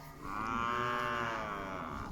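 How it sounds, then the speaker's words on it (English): A cow lowing loudly and close by in a continuous drawn-out moo on a farm the day after calves were weaned, with no other sounds. "Cattle are causing chaos."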